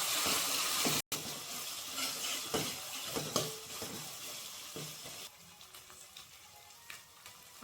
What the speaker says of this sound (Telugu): బాగా ఫ్రై అయిపోయింది కదా